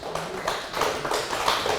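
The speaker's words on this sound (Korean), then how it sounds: "이럴 때 박수 한번 쳐보시죠" A church congregation claps together during a sermon, producing a dense, lively patter of many hands that rises and holds for a couple of seconds.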